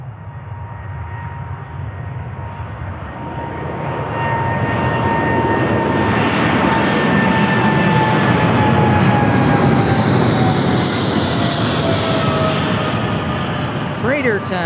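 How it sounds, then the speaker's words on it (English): A large freighter aircraft at Anchorage's Ted Stevens airport roars steadily, its jet engine rumble swelling as it draws nearer and then holding loud and broad for the rest of the clip. "Freighter time."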